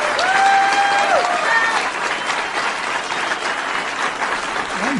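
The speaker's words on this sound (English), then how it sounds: "Go ahead, Republicans, start cheering." Crowd at a Republican political rally cheers and applauds loudly and steadily, a dense wash of clapping and voices with a couple of whistles early on.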